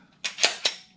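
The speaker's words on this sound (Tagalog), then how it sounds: "ngayon lang uli tayo makapagsimulang makapagpaputok ng baril" A handgun fired by a beginner shooter outdoors in spring in Canada: three sharp, cracking shots spaced unevenly over about half a second, moderately loud with short decaying tails and no talk.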